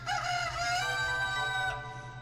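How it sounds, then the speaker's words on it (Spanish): A rooster crows in the video game Alundra: one drawn-out, clear cock-a-doodle-doo with a bright, ringing tone over a low steady hum, heard alone without talk. "¡Kikiriki!"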